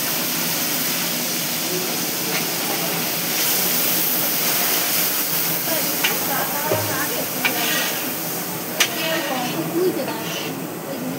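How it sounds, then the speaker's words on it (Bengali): Water poured onto fried potatoes in a hot pan sets off a loud, continuous steaming hiss that holds steady throughout, with a few small pops and faint voices beneath it. "আলু ভাজা হয়ে গেছে, এখন জল দিয়ে দিলাম।"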